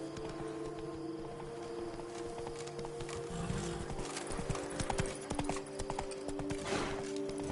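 Horse hooves clip-clop steadily in a PS4 video game as the mount travels along, a continuous near, even rhythm over soft game ambience.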